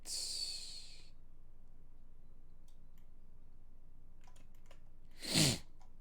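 A single sharp sneeze near the end, close and sudden, after a hissy burst at the start and scattered faint clicks.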